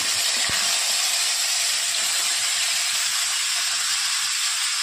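Chicken frying in hot oil in a wok gives a steady, loud, dense sizzle and hiss that holds without a break, with a brief clink near the start and no voices.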